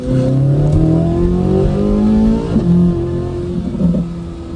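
A 2026 Corvette Z06 3LZ accelerates hard, its engine note climbing steeply through the gears with brief dips at each shift, loud and close.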